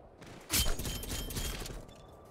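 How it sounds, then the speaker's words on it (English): A hostile sentry turret in Call of Duty Black Ops Cold War opens fire with a sharp onset, then a rattling burst of rapid shots for about a second and a half before fading. "Hostile sentry turret active."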